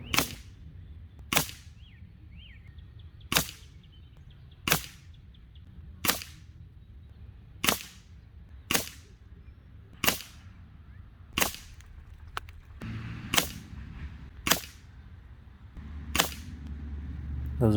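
Hatsan Mod 87 Vortex QE .22 air rifle fired at a target about 25 to 27 yards away: eleven sharp, loud cracks at steady intervals of roughly 1.5 seconds, each standing alone with no talk.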